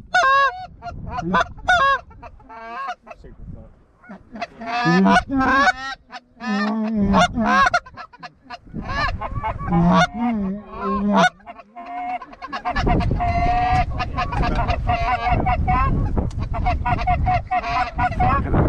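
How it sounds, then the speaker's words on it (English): A large flock of geese honks loudly and continuously over a dry Kansas field during a late-season hunt, overlapping calls rising and falling in dense waves, with some hunting calls mixed in and a few brief voices. "That's all geese."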